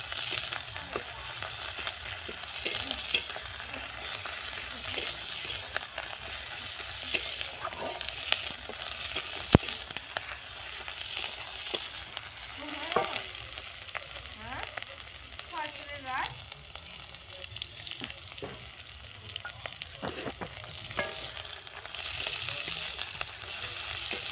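Garlic paste fries in hot oil in a pan while cooking ruli fish curry, a soft, continuous sizzle with scattered crackles and occasional stirring scrapes, quiet and close.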